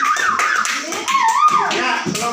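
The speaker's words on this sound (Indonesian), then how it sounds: "Tepuk tangan dulu." Children in a classroom clap their hands together in a quick burst right after a teacher's lesson, with young voices chattering over the clapping.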